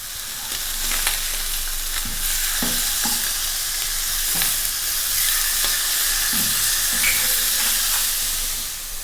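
Safi fish fry in a pan without added oil, a steady bright hiss and sizzle running throughout with occasional soft taps and pops, close and fairly loud.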